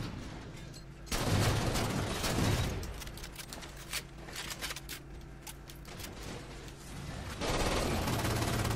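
SAW machine gun in Halo 4 multiplayer firing in loud sustained bursts, a long volley at the start and another near the end, with quieter mechanical clatter between.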